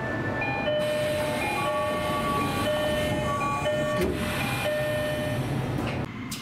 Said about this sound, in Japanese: もう一度よくドアチャイムを聞いてみましょう。